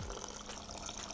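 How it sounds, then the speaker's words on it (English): Liquid pours into a bowl of spice bun dough, a short, soft watery trickle and splash close by with no voices over it. "I'm just going to add that liquid"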